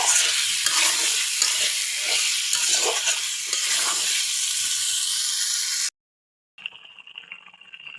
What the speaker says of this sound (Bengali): এখন আমি আলুটা আগে রান্না করে নেব, পরে মাছের ঘাটাটা করব।